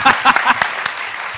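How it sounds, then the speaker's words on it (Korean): An audience at a strategy forum applauds in a short burst of clapping that quickly fades. "박수 한번."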